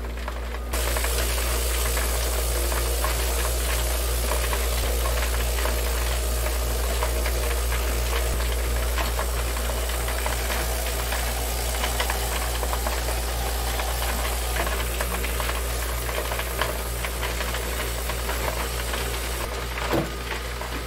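A double-barrel Lot-O rock tumbler holding stones and borax runs continuously, giving a loud, steady mechanical rattle and hum that stays unbroken and alone until a short clunk near the end.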